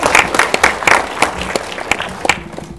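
Audience at a film Q&A for Shut In applauding as a guest comes to the front: loud, close, sharp claps from a modest crowd, thinning slightly toward the end.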